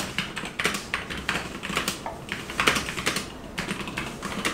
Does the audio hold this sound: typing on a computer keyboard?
yes